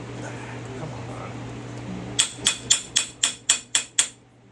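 Hammer blows on a Jeep Wrangler TJ driveshaft, eight sharp metallic clanks in a quick even rhythm, loud and close, after a stretch of low background hum.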